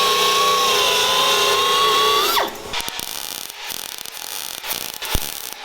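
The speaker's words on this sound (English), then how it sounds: "just grinding them down so they look nice and pretty" An angle grinder works down beaded welds on metal, giving a loud, steady high whine for about two seconds before spinning down, followed by scraping, clunks and handling noises.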